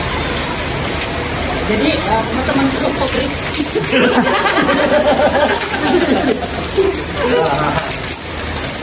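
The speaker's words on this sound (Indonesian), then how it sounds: "Jadi ada hikmahnya hujan, guys." Steady rain falls outdoors near a river, a constant broadband hiss running through the whole stretch beneath people chatting over it.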